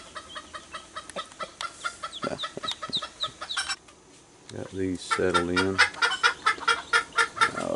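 Chickens cluck and squawk repeatedly in short bursts, close by, with a rooster among them, on a homestead farmyard with pigs and ducks, while someone speaks briefly over the noise.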